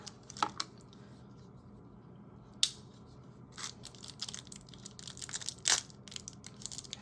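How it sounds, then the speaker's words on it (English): Plastic packaging around a sharpener crinkles and crunches in close, irregular bursts, with a few sharper crackles standing out against a quiet background. "So sorry if the crinkling noise bothers you."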